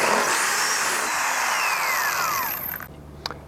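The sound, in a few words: drilling a hole in snowmobile tunnel with 3/8 drill bit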